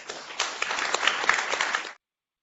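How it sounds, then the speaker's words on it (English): Audience applause at the opening panel of a rule-of-law festival: a brief, full burst of clapping that holds steady for about two seconds and then cuts off abruptly. "That can be a louder applause"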